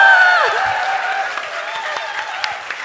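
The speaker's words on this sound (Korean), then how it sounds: "다시 두 분 목사님 환영하는 박수 다시 부탁드립니다." Audience applauding to welcome two pastors, Kim Gwan-seon of Sanjeonghyeon Church among them, at a church broadcast event; steady broadband clapping throughout, with a faint voice and a tonal whistle-like sweep near the start.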